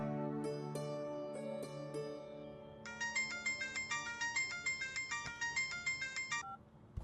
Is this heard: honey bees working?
no